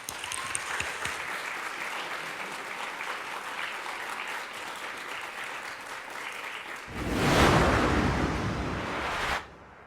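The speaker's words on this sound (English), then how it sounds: "massive round of applause for Ruby!" Audience at a Welsh talent search quarter-final applauding a contestant: dense, sustained clapping that carries on for several seconds, then swells louder into a fuller burst before cutting off.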